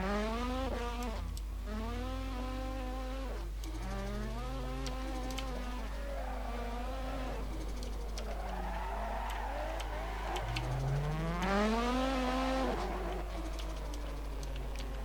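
A powerful car of about 300 horsepower drifts along a mountain road in the racing game Assetto Corsa, its engine revving steadily with pitch swooping up and down in long repeated sweeps, loud and continuous with no talking.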